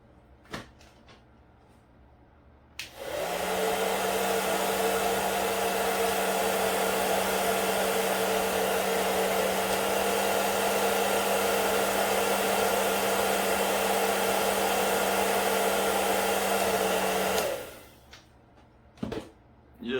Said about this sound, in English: while you hit it with the air dryer